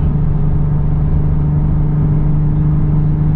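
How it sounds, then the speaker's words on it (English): A Nissan 350Z with an aftermarket exhaust cruises in 5th gear, giving a steady, loud, low droning exhaust tone with a constant hum and road noise and no talk over it. "I'll let you guys just enjoy the exhaust tone."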